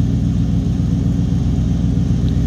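A 1957 Chevrolet 3100 Big Window street rod with a mild exhaust and cam runs at a steady idle, giving a loud, even, low rumble with no talking.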